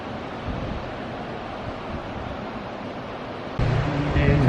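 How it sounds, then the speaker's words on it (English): Surf rolls in at the main beach on the Gold Coast, a broad, steady wash of breaking waves with wind buffeting the microphone, growing louder and gustier toward the end. "So this is the main beach."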